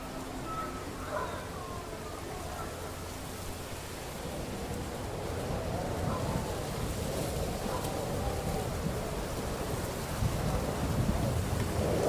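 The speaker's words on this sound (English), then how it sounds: "Pretty stormy night." A nighttime thunderstorm with steady rain and low rumbling thunder in the medieval game Kingdom Come Deliverance II, a broad continuous wash that swells slightly toward the end, with no talking.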